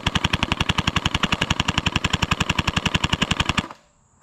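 Faction Havoc gel blaster firing full auto during a rate-of-fire test, a rapid, even stream of sharp close shots lasting about three and a half seconds, then stopping abruptly into quiet.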